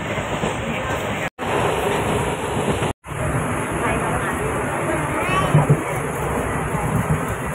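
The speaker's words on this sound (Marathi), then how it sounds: "आता आम्ही दादर स्टेशनला बसतो ट्रेनमध्ये" A Mumbai suburban train rumbles and rattles steadily along the tracks from Dadar toward Virar, loud and continuous, with faint chatter from passengers mixed in.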